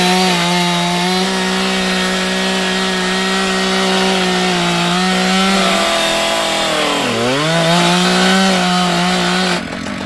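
A power tool bites into a wooden sculpture, giving a loud, steady droning whine that dips in pitch once under load and then recovers before cutting off abruptly.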